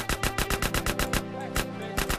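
Rapid, evenly spaced gunfire from a weapon in GTA: San Andreas, about a dozen loud close shots in a steady burst, a brief pause, then a few more rounds.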